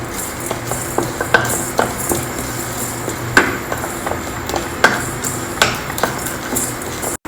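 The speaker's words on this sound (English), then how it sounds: "Dry roast it over a low flame because the methi seed should not be burnt." Methi seeds dry roasting in a pan over a low flame, heard as light stirring with repeated small clicks and taps of seeds and spoon against the metal, spaced irregularly with no talk.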